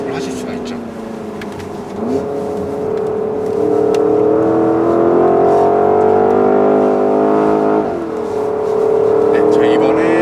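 Porsche Cayenne Turbo GT SUV accelerating hard on a race circuit, a loud, steady engine drone with rising harmonics that climbs through gears, heard from inside the cabin with a voice talking over it.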